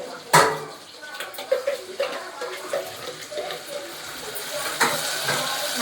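Onions and ground tomatoes sauté in a pan for a mutton curry, making a steady soft hiss with occasional clinks of a utensil against the pan.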